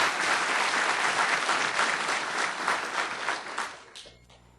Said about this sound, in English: So I think he deserves a round of applause